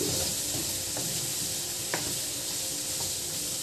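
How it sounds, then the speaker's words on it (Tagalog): Banana blossom sautés in a pan with a constant bright sizzle, up close, and a few faint scrapes from stirring mixed in. "igisa natin hanggang maluto yung puso ng saging"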